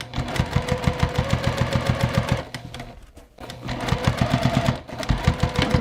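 A sewing machine stitches quilt binding in close, rapid bursts of needle thumps. It pauses briefly, then restarts and runs at an even pace.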